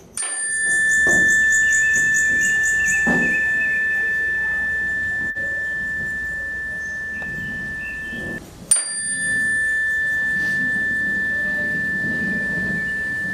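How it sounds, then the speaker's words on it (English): Two clear meditation chime strikes, each ringing out with a long pure sustained tone that slowly fades, the second arriving after about eight seconds. "You're going to listen to the chime for as long as you can to help reduce the distractions."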